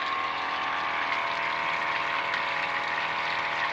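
A 12-volt DC water pump runs on an AC-to-DC power supply, giving off a continuous steady whine with a watery hum, close and alone.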